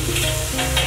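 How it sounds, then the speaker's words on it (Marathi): Capsicum sautéing in a pan gives a close, continuous sizzle and crackle of frying, steady and fairly loud throughout the short moment. "हे देखील व्यवस्थित परतून घ्यायचं आहे"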